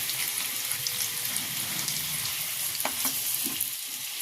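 Sliced potatoes sizzle in hot oil in a karahi, a dense, even crackling hiss up close, broken near the end by a few sharp metallic taps of a spatula.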